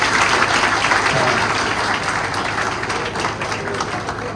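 An audience applauds a former third-year teacher at a school official's speech, a loud, continuous round of many hands clapping with a faint voice mixed in.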